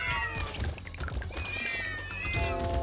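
A cat meows loudly and insistently in the video game Brotato, with drawn-out, wavering calls repeating over busy game music and effects.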